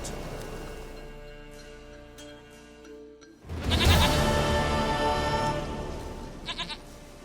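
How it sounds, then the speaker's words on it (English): A goat bleats in The Witcher 3 during a quiet wilderness scene, a low ambient hum first, then a louder burst of bleating and animal noise in the second half, close and clear with no talking. "Goat of mine, dearest, sweetest goat."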